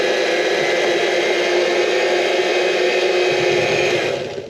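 An electric mixer whirs loudly and steadily as it beats red velvet cake batter, a constant close-up motor drone that tapers off slightly at the end.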